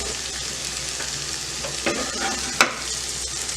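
Spicy okra fries gently over a low flame, giving a steady, close sizzle throughout with a couple of soft stirring scrapes and one sharp clack near the end, with no voices.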